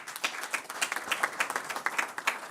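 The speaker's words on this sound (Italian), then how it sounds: "se si può fare arrivare un applauso a Nela" A crowd applauds steadily, many hands clapping in a dense, even patter at moderate distance.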